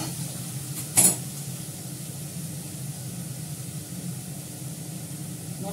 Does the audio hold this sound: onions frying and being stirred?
yes